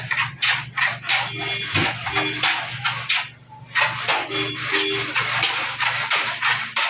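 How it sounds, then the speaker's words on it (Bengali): Wooden bed parts, a headboard and a leg, are rubbed and sanded by hand in a furniture workshop, producing rhythmic, repeated scraping strokes, close and loud, with a brief pause midway. "দুটো আমরা ফিনিশিং করে ঘষে মেজে রাখছি"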